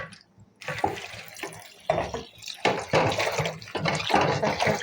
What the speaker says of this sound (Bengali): শাকটাকে ধুয়ে ঝাঁপিতে রেখে দেব।